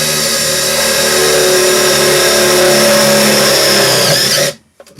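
A Makita DTD171 impact driver runs at full tilt, a loud continuous high-pitched motor whine and rattle lasting several seconds before cutting off abruptly into silence.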